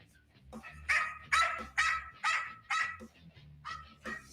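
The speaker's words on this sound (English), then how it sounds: "It sounds like that dog is asking for help." A dog gives a series of about six sharp, strained barks and yelps with whimpering between them, close and fairly loud, over a low steady hum.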